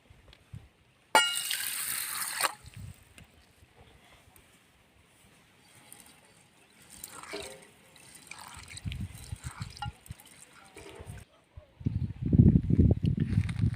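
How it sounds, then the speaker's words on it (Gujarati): Pigeon pea lentils (toor dal) are rinsed in water for a sweet stuffed flatbread, giving short splashing and trickling bursts near the start and end, with quiet gaps between. "તુવેરની દાળને આપણે બે પાણીએ ધોઈ લઈએ"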